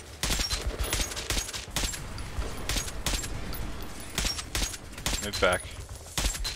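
Rapid gunfire in the Metro 2033 Redux video game: repeated sharp shots and short bursts crackle throughout, close and loud, with a brief spoken voice mixed in partway through.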